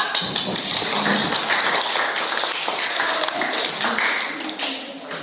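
A class of students claps hands together, producing a loud, sustained wash of applause that holds steady for several seconds before easing slightly.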